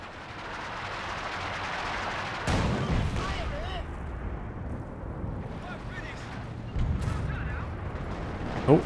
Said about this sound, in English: Some base howitzer action.